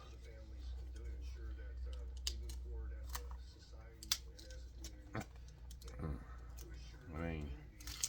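Thin copper sheet being cut with snips, a series of sharp clicks and crisp snipping bursts close by, with a person talking quietly at times.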